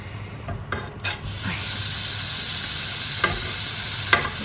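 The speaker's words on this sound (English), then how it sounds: "And then with a wooden spoon, I'm going to mix that in." Wooden spoon stirring Flora Light margarine and flour in a hot pan, a steady close sizzle with a few scraping strokes and sharp clicks of the spoon against the pan, no talking.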